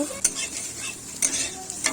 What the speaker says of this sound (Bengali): একটু কড়াতে যতটুকু তেল আছে তা দিয়ে আমি একটু ঝুরঝুরি করে ভেজে নেব